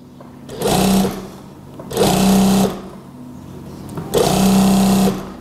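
A sewing machine stitches a long straight side seam near the armpit of a garment in three loud, close bursts of rapid whirring, each lasting under a second, separated by brief pauses.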